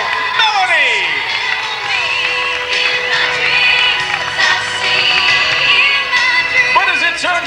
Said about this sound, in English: I hope that you'll welcome them with a gigantic round of applause